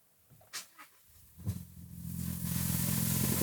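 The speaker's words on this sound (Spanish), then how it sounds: "Vamos a escuchar ese motor." A gasoline Toyota Land Cruiser L250 engine starts after a few faint clicks, then settles into a steady, quiet idle with a rising hiss, heard from inside the vehicle without talking.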